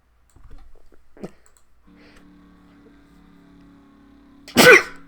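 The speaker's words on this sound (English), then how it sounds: "I'm just sneezing too." A single sharp sneeze bursts out near the end, loud and close, after a few faint clicks and soft thumps in an otherwise quiet room.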